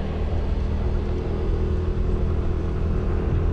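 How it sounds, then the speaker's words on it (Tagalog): A motorcycle running low on gas rumbles steadily while being ridden, a continuous close engine drone with road noise and no clear revving changes. "Hirap na motor natin ah."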